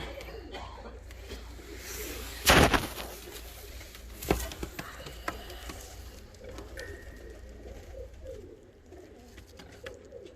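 Ornamental costume pigeons, including imported leg-banded birds, cooing softly on and off in a loft, with a louder flapping or scuffling burst near the start and another brief one midway over a steady murmur.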